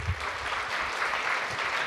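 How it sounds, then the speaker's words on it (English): An audience of alumni gives a steady, full round of applause at an entrepreneurship talk, with broad, continuous clapping throughout and no pauses. "please give me your round of applause for my friend, your fellow alum"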